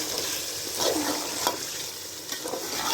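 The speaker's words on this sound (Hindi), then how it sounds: "अब चिकन को मैं मिक्स करूँगी।" Chicken with cauliflower frying in a pan as a spoon stirs and scrapes through it, giving a steady close sizzle with several brief scraping strokes, no voices.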